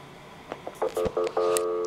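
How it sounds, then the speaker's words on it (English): A telephone keypad sends the Centrex call hold code as a quick series of touch-tone DTMF beeps. A few short tones come first, then longer ones close together, over a quiet line hiss. "get another recall dial tone and dial the call hold code again."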